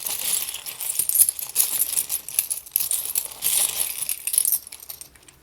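Small seashells handled for a card reading, light clicking and rattling of shells in bursts, close and fairly soft, with no talk.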